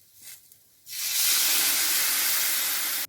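Tamarind water poured into a hot pan of okra curry sets off an abrupt, loud, steamy hiss that stays strong and even for a couple of seconds after a quiet start.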